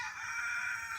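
A rooster crows in a steady, fairly faint high-pitched call that holds for the full second, with no talk over it.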